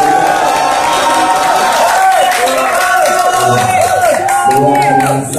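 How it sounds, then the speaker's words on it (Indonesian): Crowd clapping and cheering at a young Buddhist dharma speaker competition, loud and close, with whoops and excited voices over the applause throughout. "Boleh berikan tepuk tangan sekali lagi."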